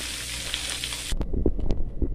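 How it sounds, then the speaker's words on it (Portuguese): Loud, steady sizzling of chicken frying in a pan with drops of water added, then the hiss suddenly drops away to scattered crackles and light scraping clatter. "Você vai pingando água e ele vai fritando"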